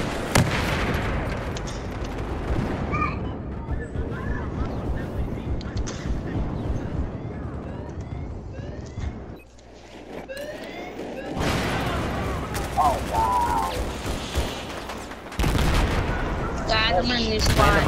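Heavy gunfire in a shooter game during a bomb-planting round: loud bursts and crackling shots over a constant battle rumble, with a short quieter gap in the middle. Player voices talk over it at times.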